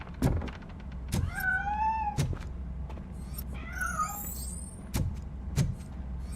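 A cat in the RoboCop: Rogue City video game meows and yowls several times while escaping, with sharp thumps and clunks between the calls in a game setting.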